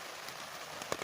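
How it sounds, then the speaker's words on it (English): Rain falls outdoors as a soft, steady patter, with a brief sharper drop near the end. "So it's fair raining again."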